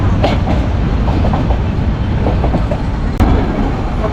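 Ooty–Mettupalayam toy train pulling into Coonoor railway station, a steady nearby rumble of wheels and carriages with clickety-clack rail joints and a brief sharp clank near the end.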